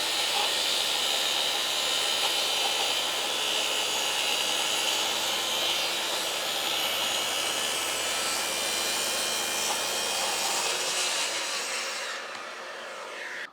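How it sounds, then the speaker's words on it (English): A plunge track saw rips through a wooden workbench top, giving a loud, steady high-pitched whine and cutting roar that holds for about twelve seconds, then spins down near the end. "we have our 2 cuts run in out to the edge. Now I haven't obviously gone all the way through. The plunge saw or track saw is not deep enough"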